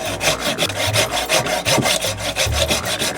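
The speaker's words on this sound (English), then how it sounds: "I'm going to saw back to about a 1/2 inch thickness all along the length" A Silky Gomboy hand saw cuts through very hard wood being shaped into a traditional boomerang, giving a close, rhythmic rasp of repeated push-pull strokes, about a dozen in quick succession, with no talk.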